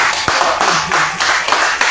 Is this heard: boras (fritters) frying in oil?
no